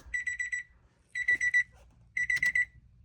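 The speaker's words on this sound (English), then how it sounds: "they all power on, and it beeps" Gauges in a 1992 Honda Civic hatchback power on with three short bursts of rapid electronic beeping, each a quick run of about four to five high tones, close and clear in a quiet setting.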